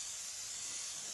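A steady, loud hiss of aerosol spray runs continuously through the clip, broadband and unbroken, with no voices.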